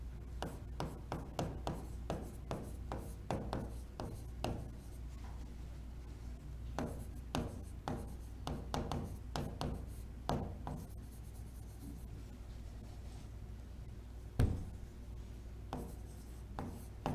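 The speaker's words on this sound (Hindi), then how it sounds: "तो फिर फटाफट से लिखते हुए चलते हैं" Pen writing on paper during a vocabulary lesson: close, faint scratchy strokes in quick irregular bursts, with short pauses and a soft tap near the end.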